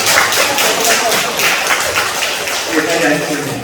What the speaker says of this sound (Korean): 우리 박수 함께 하겠습니다.